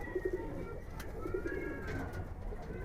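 Giribaz pigeons coo in short rolling bursts, a few close calls rising over a steady low background hum, with no talking.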